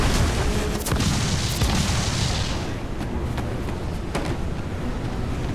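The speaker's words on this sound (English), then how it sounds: "They're firing a volley!" A ship's cannon volley in Assassin's Creed Freedom Cry, a sustained roar of heavy booming shots rolling over one another, loud and close at first, then thinning out into scattered cracks.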